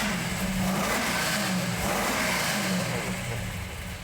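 A Chevrolet Bel Air bracket racer nicknamed White Lightning runs just after its first start, a loud, steady engine drone with a slight rev swell, close by, with no talk over it.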